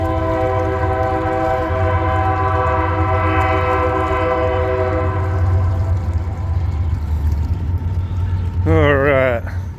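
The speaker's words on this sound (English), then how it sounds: "Hear the train coming." A train rumbles steadily close by along the Mississippi River valley, sounding a long, loud multi-tone horn throughout, followed by a wavering horn blast near the end.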